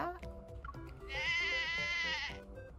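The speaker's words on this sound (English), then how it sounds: "The sheep's leader is immediately drawn to the food and trots towards Zayne." Sheep bleating in the video game Love and Deepspace: one sustained, wavering bleat lasting over a second, heard over background game music and sounds.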